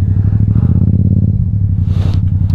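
A motorcycle engine fitted with a new exhaust muffler idles close by, giving a loud, steady, throbbing low rumble that continues throughout.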